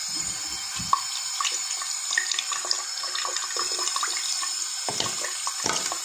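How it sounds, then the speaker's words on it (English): Tap water runs steadily into a sink while hands are washed with soap, with splashing and a few sharper knocks and rubbing sounds over the continuous flow. "I'm going to wash my hands."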